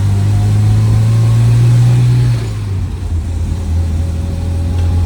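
A 1983 Volvo 242 engine runs loud and steady, then its note drops and wavers midway as it stumbles through a carburetor dead spot before settling back to a rough, even hum.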